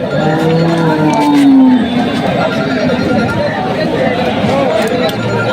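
Cattle low at a busy cattle market in Dinajpur, one drawn-out moo standing out over a steady hubbub of crowd chatter and voices.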